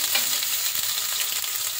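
Onion paste frying in hot mustard oil with cumin and bay leaf, a loud steady hiss and sizzle close up throughout, with faint stirring scrapes.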